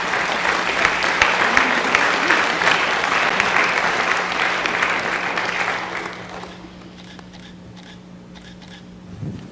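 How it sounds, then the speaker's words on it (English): Loud, sustained applause from a crowd at a city council meeting, steady for about six seconds before fading to a quiet room with a low hum. "Let's give them a round of applause"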